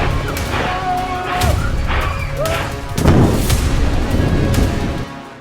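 Loud, heavy bomb explosions boom and crash one after another in Beirut, Lebanon, a chaotic scene.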